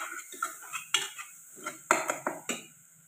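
Masala spices stirred into fried onions in a metal pan: a spoon scrapes and clinks against the pan in irregular strokes, close and clear, with a faint sizzle beneath.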